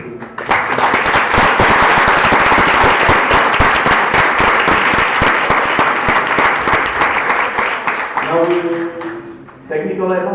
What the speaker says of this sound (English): Please give a nice applause.